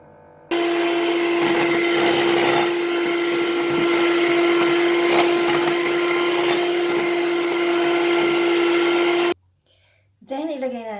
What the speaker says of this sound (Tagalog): Then, mag-beat tayo ng cream.